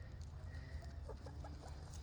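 Easter Egger hens clucking among other chickens in a backyard flock, soft repeated clucks at middle distance over a steady low background rumble.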